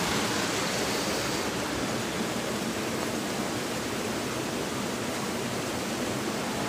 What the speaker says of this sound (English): this is actually a beautiful little waterfall and view here